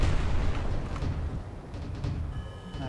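Missiles launch in the video game Artificial Extinction, a deep booming burst of low rumbling blasts that rolls on for a few seconds before fading, heard alone.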